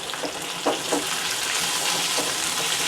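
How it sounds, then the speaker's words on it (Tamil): Okra sautés in a pan with cumin over a medium flame, giving a steady close sizzle with occasional stirring scrapes and soft clicks. "வெண்டைக்காய் நல்லா அந்த பிசு தன்மை போகிற வரைக்கும் நல்லா வதக்கிக்கோங்க."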